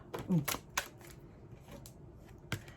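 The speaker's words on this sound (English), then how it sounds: "I'm just sitting here shuffling it like a goon" A tarot card deck is shuffled close by, with soft papery riffles and sharp card snaps coming in short irregular bursts over quiet room tone.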